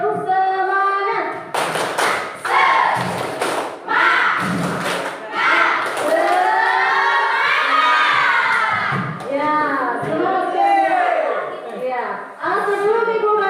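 A classroom of pupils performs a rhythmic spirit clap, sharp hand claps in bursts mixed with loud children's shouts and chanting, close and energetic, with a teacher's voice leading.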